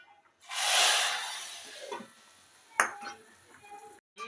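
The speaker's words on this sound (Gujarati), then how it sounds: "આનો આપણે આવી રીતે વઘાર કરી દઈએ." Asafoetida and Kashmiri red chili powder hit hot oil for a tempering, giving a loud burst of sizzling hiss that fades, followed by a few clinks of a pan and spoon.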